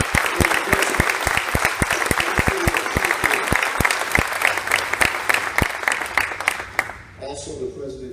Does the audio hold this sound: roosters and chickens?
no